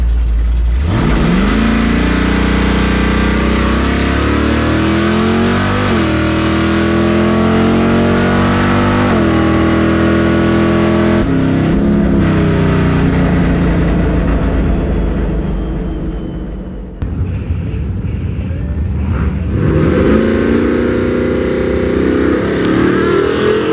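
A Nova drag race car's loud engine roars and climbs steadily through the revs down the track, drops, then surges again in another long hard acceleration, close and continuous with no talking.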